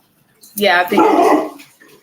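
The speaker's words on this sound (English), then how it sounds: "Oh, that's my dog scaring the shit out of me." A pet dog barks and yips close by, a short burst of loud barks lasting about a second, with a person speaking over it.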